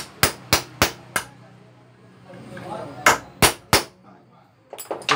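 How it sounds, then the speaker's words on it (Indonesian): Close, sharp metallic knocks strike a screwdriver to loosen the shock absorber on a Honda Beat Pop scooter: four quick hits, a pause with workshop noise, three more, then a few lighter taps. "Fungsi kita geduk barusan itu agar kita membukanya itu lebih mendalam dan nggak terlalu berat."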